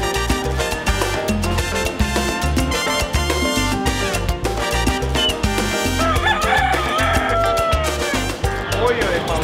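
A rooster crows at a busy Cuban market, its calls set against dense background music and ambient market noise, with people talking nearby.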